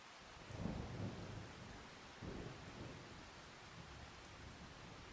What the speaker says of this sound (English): Oh gosh, now it's thundering.